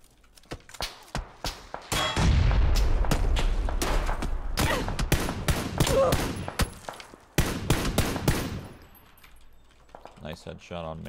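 Gunfire in PUBG, a solo battle royale match: sharp isolated shots at first, then a dense burst of rapid automatic fire with loud cracks, tapering into more spaced single shots near the end.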